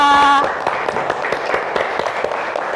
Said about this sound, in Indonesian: Oke, tepuk tangan buat Siva.